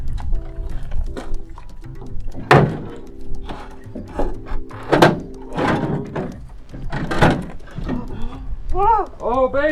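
Car hood on a JDM Spitfire being lowered and latched, several sharp metallic thunks and clunks spaced a few seconds apart, close and loud, mixed with people talking and exclaiming.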